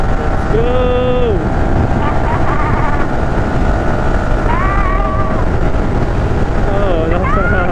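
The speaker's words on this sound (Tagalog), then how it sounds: "lakas ng hangin" Strong wind roars and buffets the microphone during a motorcycle ride on a road in Tarlac, a loud, constant broadband rush with faint tonal whines riding over it.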